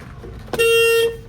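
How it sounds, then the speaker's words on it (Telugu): A single steady horn blast, about half a second long, sounds close up from a 2020 Dost LS pickup truck, following a brief knock or click. "Horn okay."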